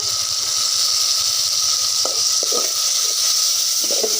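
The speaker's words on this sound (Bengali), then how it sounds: "সামান্য পানি দিয়ে দেব," A little water hits hot ground spices in a pan, setting off a steady bright hiss with a few soft bubbling pops and scrapes, close by and unbroken, with no voices over it.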